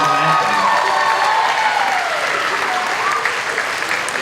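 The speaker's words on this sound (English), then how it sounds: "let's give one more round of applause for Justine Gizzi and Aaron Durkin for their phenomenal anthem" An audience claps steadily at an honors convocation, a dense, continuous round of applause filling the hall without letup.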